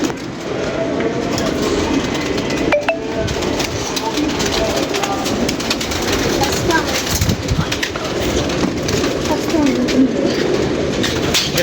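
Pigeons cooing in a group at a Punjab pigeon keeper's loft, soft repeated coos under a steady loud background rumble with occasional voices.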